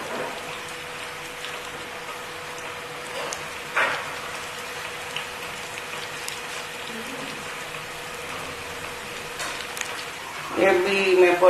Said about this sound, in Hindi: ऑयल में पकोड़े डाल दी हूँ।